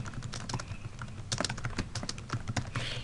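Rapid typing on a computer keyboard while a Dropbox folder title is entered, with a steady run of crisp close key clicks over a faint hum and no voice.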